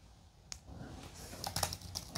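Soft, muted Apple Magic Keyboard keys tap in a short irregular burst, quiet and close, with a faint low room hum underneath.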